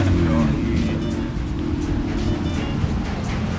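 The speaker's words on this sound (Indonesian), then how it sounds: "Jadi knalpotnya nih nggak terlalu keras ya" A Suzuki Ignis with a modified exhaust idles in a low, steady, fairly mild rumble, while voices talk over it nearby.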